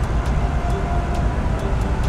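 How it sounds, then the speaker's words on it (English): Steady rumbling of a train at a station, a continuous low drone with faint periodic clicks, no voices. "Yes, at the train station. Trains everywhere."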